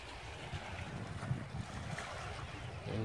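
Small waves and ripples lap at a Welsh shore near a castle, a low continuous wash mixed with wind buffeting the microphone, fairly faint and without speech.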